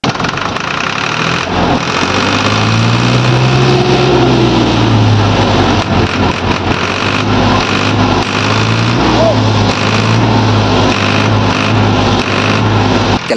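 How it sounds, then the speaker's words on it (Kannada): A 25-year-old tractor engine runs after an engine repair, a loud, close, steady diesel rumble with even throbbing pulses that holds for the whole stretch. "ಇದು 25 ವರ್ಷ ಟ್ರ್ಯಾಕ್ಟರ್ ಇದ್ರು ಫುಲ್ ಸೌಂಡ್ ಹೆಂಗೈತ್ ನೋಡ್ರಿ."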